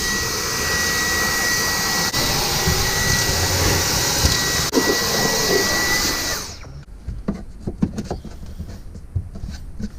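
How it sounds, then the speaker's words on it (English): Loud, steady vacuum cleaner roar used to clean up during a diesel heater install, running continuously for about six seconds before cutting off, leaving quieter clatter and knocks. "I'll get the vacuum cleaner, give it a bit of a clean up"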